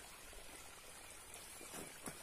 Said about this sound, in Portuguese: Água vem descendo das pedras aí.